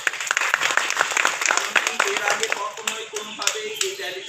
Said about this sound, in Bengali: আজকের যে আয়োজনটা আয়োজনটার জন্য সবাই একটা হাতে তালি দেবো